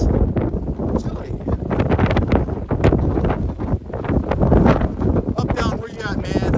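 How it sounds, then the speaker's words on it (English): High winds buffeting the microphone on the summit of Mount Jackson, a loud, gusting roar with rumbling surges that rise and fall continuously. "High winds."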